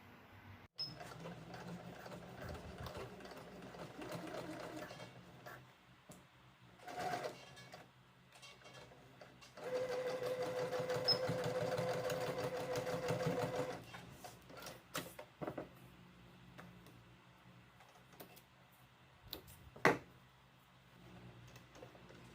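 A sewing machine stitches a cloth face mask in several intermittent bursts, the motor whirring steadily during each run and pausing between seams, with light handling noises in the gaps.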